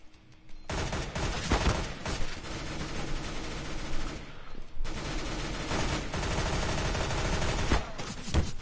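Dense, rapid gunfire from the video game CS:GO, with overlapping bursts and single shots going almost nonstop at close range. The firing is loud and steady, with only a brief lull in the middle.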